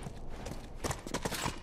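Horse hooves clopping in The Last of Us Part 1, a quick run of close, uneven knocks in the second half after a quieter rustling start.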